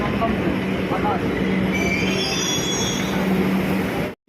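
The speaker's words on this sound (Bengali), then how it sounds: "কোথাকার ট্রেন এটা" A train rolls into a station close by with a steady rumble and a high metallic wheel squeal drawn out over several seconds, ending in an abrupt cut.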